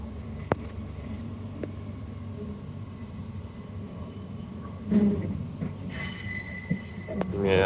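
Interior of a Brisbane Cleveland Line passenger train pulling away from a station, with low rumbling motion and a rising wheel squeal toward the end.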